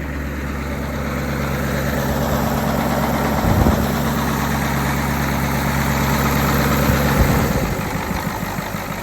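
A Ford 6.9 IDI diesel engine idles steadily and close by, a deep, even rumble with a faint rattle, running on red off-road fuel and still smoking, with two brief heavier surges partway through.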